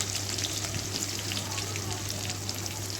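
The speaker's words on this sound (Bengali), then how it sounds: "এটাকে এবার হালকা করে ভাজতে হবে।" Cut potatoes fry gently in a pan with a soft, continuous crackling sizzle under a steady low hum, quiet and even throughout.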